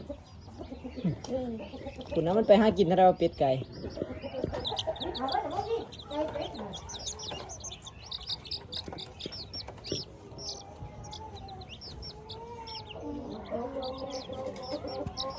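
Chickens cluck and chatter close by, with scattered higher chirps, while a person talks intermittently over the flock.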